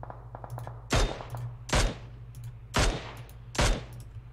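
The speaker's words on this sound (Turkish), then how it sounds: "Şurada biri vuruyor" Gunfire in the video game PUBG Mobile: four loud, sharp shots spaced about a second apart, each with a decaying tail, over a low steady hum.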